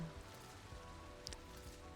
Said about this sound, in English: Maybe it won't be raining by the time we get there.